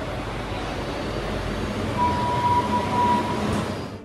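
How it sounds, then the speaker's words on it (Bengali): A Kolkata metro train pulling into a station on the yellow line, a steady rumbling rail roar with a faint tonal whine rising near the end, no speech. "আমাদের ট্রেন এখন স্টেশনে প্রবেশ করছে"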